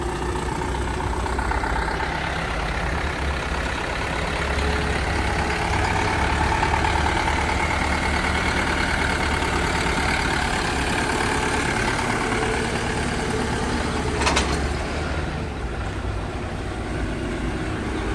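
A mini tractor engine idles steadily with a continuous low rumble and even mechanical drone throughout, close by, with one brief sharp click near the end.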